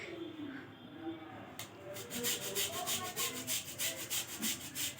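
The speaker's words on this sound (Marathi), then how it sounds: "तर इथं हा गुळ किसून घेतला." Jaggery being grated by hand for sesame-jaggery laddoos, a rhythmic rasping scrape repeating in quick even strokes close by after some quieter handling at the start.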